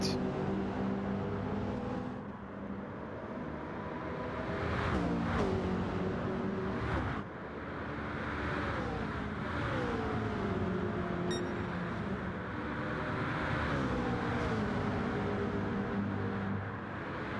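Racing cars, including a McLaren, in a Gran Turismo 7 online league race, producing a continuous loud engine drone whose pitch climbs and falls with gear changes and passes.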